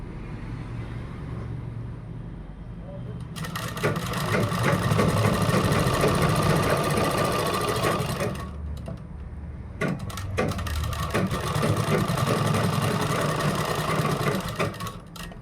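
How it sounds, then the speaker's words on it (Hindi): Sewing machine running a seam on a kurta, a loud continuous rattling whir that stops briefly and starts again, close up with no talk. "इस लाइन पर हम ऐसे सिलाई करेंगे"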